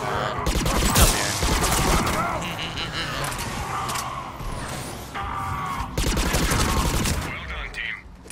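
Dense pulse rifle gunfire bursts in Mass Effect 3 multiplayer combat, loud and nearly continuous, with explosions and mechanical game effects mixed in and voices speaking through the action.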